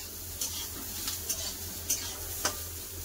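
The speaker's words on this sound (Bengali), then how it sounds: "এবার ভালো করে সব একসাথে নেড়ে নেবো" Teasel gourd slices fry with onion and chilli powder in a pan, a constant sizzle broken by four evenly spaced scraping strokes of a spatula stirring everything together.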